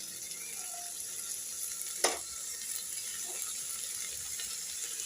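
Tomato going into a pan of well-softened big onions and ginger-garlic paste for biryani, a continuous frying sizzle with a sharp clatter near the middle and a fainter knock later.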